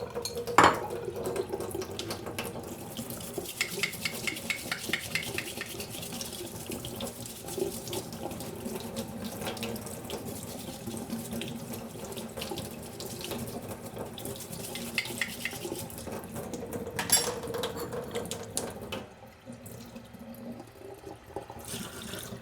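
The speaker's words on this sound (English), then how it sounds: "Just got to do some rinsing." Dishes rinsed under a running kitchen tap, with a continuous splashing water stream, scattered clinks of plates and cutlery in the sink, and a sharper knock near the start, close by, before the flow quietens at the end.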